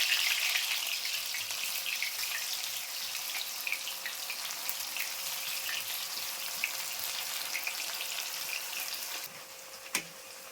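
Crispy corn fries in hot oil with a continuous bright sizzle, fairly quiet and steady, and a brief clink near the end.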